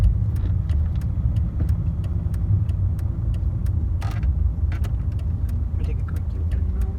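A 2002 Mercedes-Benz C200 CDI W203 diesel car making a U-turn: steady, low engine hum and road noise from inside the cabin, with sharp indicator ticks clicking regularly over it.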